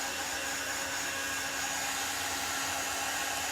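A hair dryer blows steadily and loudly, a constant close whirring hiss drying a chalk-painted wooden design, with no talking.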